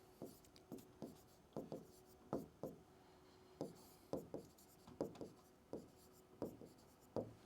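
Chalk or a marker writes a definition on a board in short scratching strokes, each a quick rub, arriving in irregular clusters at a close, quiet level, with no talking.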